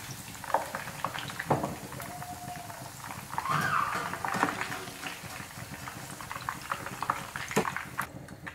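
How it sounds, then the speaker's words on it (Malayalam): Chicken pieces deep frying in hot oil for restaurant-style chilli chicken, a steady bubbling sizzle throughout with scattered close clicks and knocks of the pieces being turned. "ഇത് നമുക്ക് തിരിച്ചും മറിച്ചിട്ടിട്ട് തന്നെ ഫ്രൈ ചെയ്തെടുക്കാം"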